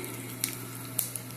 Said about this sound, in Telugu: ఆవాలు చిటపట్లు ఆడాక